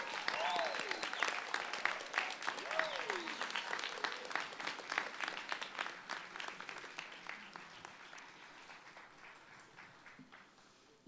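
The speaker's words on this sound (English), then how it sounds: "please join me in offering a rousing round of applause to our families" Sustained applause from a graduation audience in New Orleans honoring families, dense clapping with a few cheers and whoops rising over it, strongest at the start and gradually thinning toward the end.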